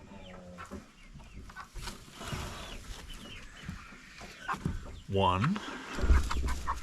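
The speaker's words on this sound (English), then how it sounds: "once I move these chickens out, then I can move the chickens that are in the garage into this coop" Chickens being moved out of a coop cluck and squawk close by, with a loud rising alarm call near the end, while a person speaks briefly amid rustling.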